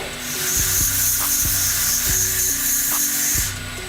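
A knife edge is sharpened on a belt grinder fitted with a very fine belt, making a continuous high hiss with a faint hum underneath and regular soft knocks roughly every three-quarters of a second as the blade passes.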